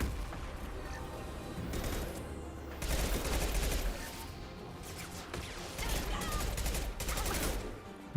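Gunfire in Mass Effect on Insanity difficulty as an Engineer, several loud bursts of rapid shots with crashing impacts amid busy battle sounds, under occasional player talk.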